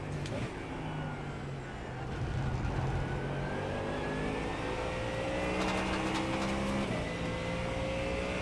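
A race car engine in the iRacing simulator drones steadily and rises in pitch as it accelerates on cold tires, with faint talk mixed in.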